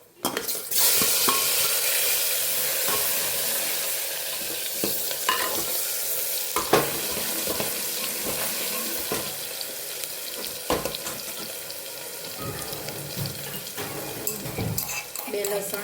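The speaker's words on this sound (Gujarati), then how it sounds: "હિંગ, ડુંગળીના ટામેટા એડ કરીશું." Asafoetida, onion and tomato frying and being stirred in a pan, a steady loud sizzle running throughout with scattered scraping clicks of the spoon, close and without voices.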